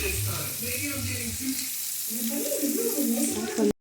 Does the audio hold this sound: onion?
yes